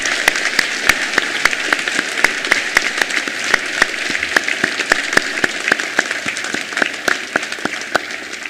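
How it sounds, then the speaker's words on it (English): A graduation ceremony crowd gives a sustained round of applause, dense steady clapping with sharp individual claps standing out across the whole stretch, moderately loud and without any talk over it. "maybe one more round of applause to thank all of those people"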